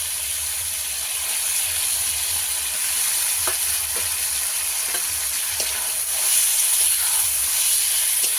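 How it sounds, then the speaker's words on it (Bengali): Marinated freshwater fish going into a hot pan of spiced masala in a village kitchen, a steady close sizzle and hiss throughout with a few soft scraping clicks, growing slightly louder near the end. "এবার আগে থেকে মাখিয়ে রাখা মাছটাকে এর মধ্যে দিয়ে দেবো"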